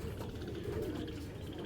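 Babra breed pigeons, kept for long-distance tournament flying, coo in a low, continuous murmur over a steady background of flock noise, close and fairly even throughout.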